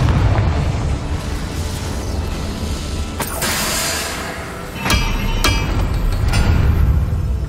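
Confringo blasting-spell explosions in Hogwarts Legacy: several sharp, loud bursts spaced a second or two apart over a dense rumbling, mechanical game background.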